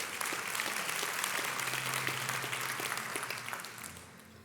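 A church congregation claps after a closing prayer at a Sunday service, a dense, lively round of applause that holds steady and then slowly tapers off.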